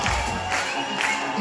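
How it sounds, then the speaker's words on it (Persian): Audience at a dolphin show cheering and whooping for a sustained stretch, a dense, lively crowd wash with scattered shouts rising and falling throughout. "تشویق میخواد"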